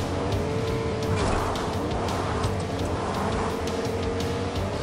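A car in a video game chase revs hard with tire squeal and skidding, engine noise surging and shifting continuously over nearly five seconds with no talking.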